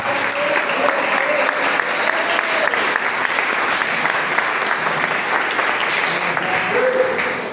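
Church congregation at a Pentecostal service applauding in a dense, steady wash of clapping that fills the whole span, with faint voices murmuring underneath.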